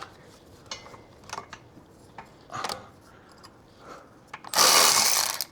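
Socket wrench cracking loose and ratcheting out bolts on a Holden V8 limited-slip differential, several short metallic clicks and ratchet bursts ending in a louder sustained rasping spin, close by with no talk.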